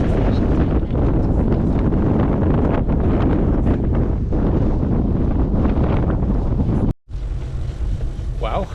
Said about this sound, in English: Okay, so I just hit a really strong headwind.